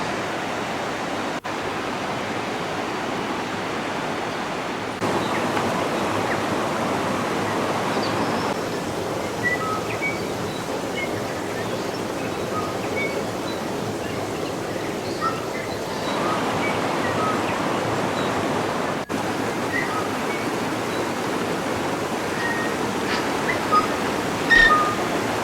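Steady rushing water of a river at a swing bridge in New Zealand, a broad continuous wash of flow with no talking, shifting slightly in level over time.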